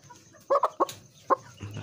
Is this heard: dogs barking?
no